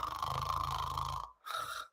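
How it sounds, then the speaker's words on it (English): Deliberate snoring done as a vocal exercise to relax the soft palate: a buzzy, rattling vibration held for over a second, a brief pause, then a second shorter snore, close and clear with no talk. "work on snoring on purpose to relax your palate"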